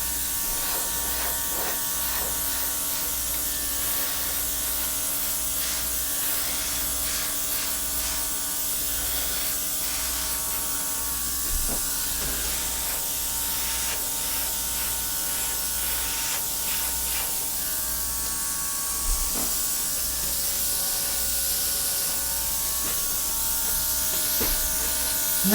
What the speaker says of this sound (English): I'm going to bring down my little air compressor, my airbrush I should call it, and just blow out a couple of these edges.